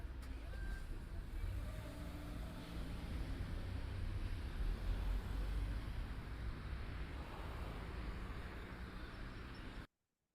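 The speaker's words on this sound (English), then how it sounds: "We know that the cars are moving from our left to our right" Traffic streams past a street crossing, cars moving from left to right in a continuous low rumble with wind buffeting the microphone, fairly faint and steady until an abrupt stop.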